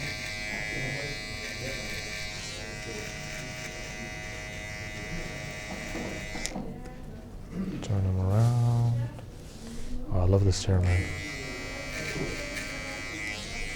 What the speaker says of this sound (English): grab your shaver. This is just to make the skin taper pop a little bit more.